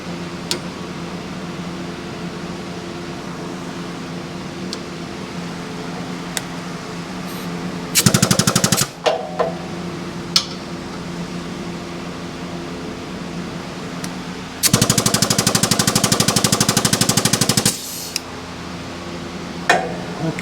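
An oiled crank and pin on a modified hydraulic press run in two short bursts of loud, buzzing mechanical whirring with a fast rhythmic chatter, set against a steady low background hum.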